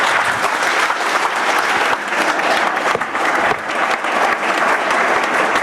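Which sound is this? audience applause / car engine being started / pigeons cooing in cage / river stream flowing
audience applause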